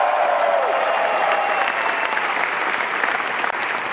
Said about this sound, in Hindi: कितने लोग तालियां बजाएंगे, कितने लोग चिल्लाएंगे?